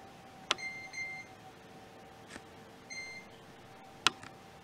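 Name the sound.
kitchen timer beeping while being set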